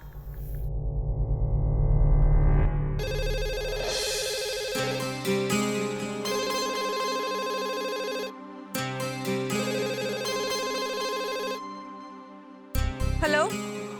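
Landline phone in a home, heard as electronic chirping ring tones in repeated bursts with short gaps, loud and close over a musical background.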